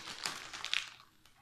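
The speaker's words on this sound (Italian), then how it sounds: "come vedete, è imballato, non l'ho aperto, sentite il rumore" Plastic packaging around a nail product crinkles and crackles up close as it is opened, with several quick, bright rustling bursts that fade toward the end; no one speaks.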